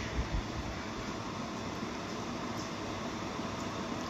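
Steady whooshing airflow hum from a cooling electric fan running continuously, broadband and even throughout with no talking.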